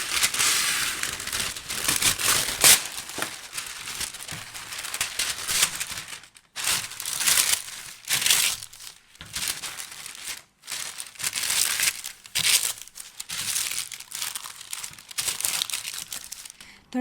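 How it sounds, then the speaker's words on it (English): A sheet of parchment paper crinkles and crackles loudly and close by as it is pressed and folded into a baking tray for Oreo brownies, coming in bursts broken by short pauses. "Now I'm taking a piece of parchment paper to put in here"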